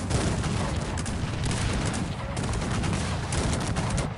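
Cannon and gunfire crackle in the Cossacks 3 strategy game during an England campaign battle: dense, continuous volleys of musket fire and booms with no clear gaps.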